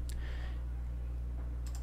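Computer mouse clicks sound during editing in Adobe Premiere Pro, a quick pair at the start and another pair near the end, light and close over a steady low electrical hum.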